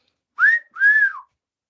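A person imitates a classic two-note wolf whistle, the kind men aim at a passing woman: a rising note followed by a longer falling one, clear and close with silence around it.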